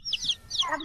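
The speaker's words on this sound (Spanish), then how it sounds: "pollito. Pollitos." A chick gives a few quick, high, chirping peeps, close and alone, in a short animal-sound recording.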